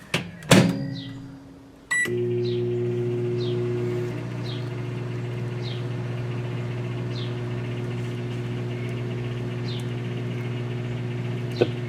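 A microwave oven runs with its magnetron off while the turntable motor turns. A clunk comes near the start, then a steady low hum with a faint whine holds to the end, and brief faint chirps sound in the background.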